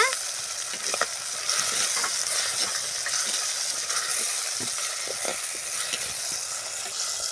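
Green chillies sizzle in a pan of frying masala for a potato fry, a dense, steady crackle close up with scattered light taps of stirring throughout.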